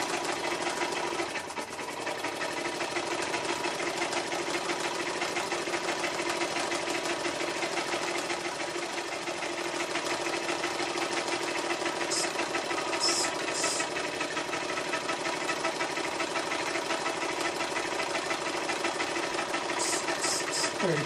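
A warmed-up Cyldon 13 5 small single-cylinder model steam engine runs steadily with a dense, rapid chugging, loud and continuous with no change in pace.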